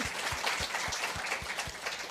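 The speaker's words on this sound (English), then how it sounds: "Tina needs to get a round of applause" Audience at a speaker session applauds, a soft, continuous rustle of clapping with low rhythmic thumps, fairly faint and brief.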